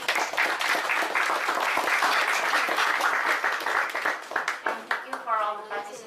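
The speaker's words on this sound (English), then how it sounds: "please give them a round of applause" An audience applauds the speakers at an ASEAN discussion forum on the AIIB: thick, sustained clapping rolls through the room for several seconds, thinning out as a voice begins speaking near the end.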